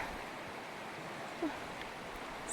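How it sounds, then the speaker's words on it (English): A waterfall on a mountain outing in southeast England gives a steady, even rush of falling water, a continuous broadband hiss with no breaks, heard at moderate distance with no talking. "You guys look at the waterfall in the meantime."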